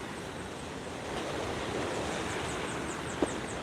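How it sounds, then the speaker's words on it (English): Sea surf at Bath Beach in Barbados at sunrise, a faint, steady wash of waves with a light wind hiss in the background and no talking. "If you're again tired of the sound of the sea in the background"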